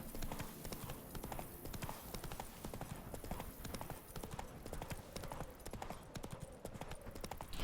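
Steady clip-clop of Geralt's horse Roach in The Witcher 3: Blood and Wine, with rhythmic hoofbeats running continuously and loud throughout, mixed with game ambience.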